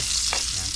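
Onion, garlic and chili hitting hot oil in a pan where fish was cooked, a dense continuous sizzle with a brief stir in the middle, close and steady.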